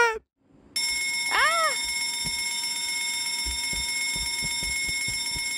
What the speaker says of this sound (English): Can someone press the alarm?